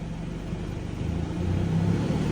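Engine of an Isuzu D-Max pickup fitted with a Dinobox Raptor2 electronic throttle, holding a raised idle, a steady low rumble that swells slightly louder partway through and keeps going with no talking over it.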